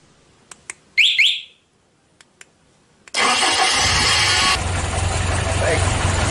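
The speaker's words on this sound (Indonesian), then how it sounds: "sekarang kita coba hidupkan mobil" A car engine cranks and catches with a sudden loud start, then settles into a steady, continuous idle; a few brief clicks and a short chirp come before it.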